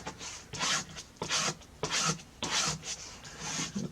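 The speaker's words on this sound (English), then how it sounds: "Alright, scrape it down." A tool rasps across a crafting craft sheet in five or six long, firm scraping strokes with short pauses between them, close up and with no voices.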